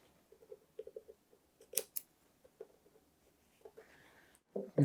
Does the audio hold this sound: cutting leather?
yes